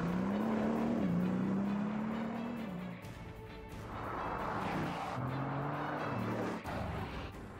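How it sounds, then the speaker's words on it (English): A Bugatti Veyron with a 16-cylinder engine drives past. Its engine tone climbs, drops off, then rises again at moderate distance and fairly low volume. No voices are heard. "you can actually hear the unique sound of a Veyron before you see it"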